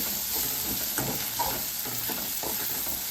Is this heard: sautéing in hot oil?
yes